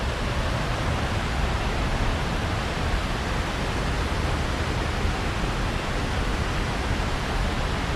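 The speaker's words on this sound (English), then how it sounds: "It looks like a man-made waterfall." A man-made waterfall among bamboo in a city park in Medellin, Colombia roars as a steady, dense wash of falling water, loud and close, with no breaks or other sounds standing out.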